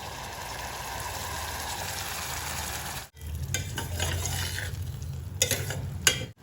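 Coriander paste being stirred and fried into an oily masala for green Hyderabad kuska, a loud close sizzle with a short break, then resumed frying with scraping stirs of a spoon against the pot.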